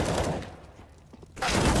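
Dense gunfire from CS:GO during an IEM Rio 2023 pro match between Imperial and NiP. Loud bursts of rapid shots open the clip, then a quieter lull, then another heavy volley near the end.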